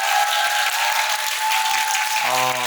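Audience applause at a film screening with a guest talk, a dense, steady wash of clapping throughout, with a voice and a sustained tonal sound entering near the end.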